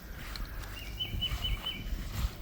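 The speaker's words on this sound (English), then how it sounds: "I can hear birds singing." Birds sing at a wooded campground in Winchester, Tennessee, a few thin chirping phrases repeating faintly over a steady outdoor background with some low rumble.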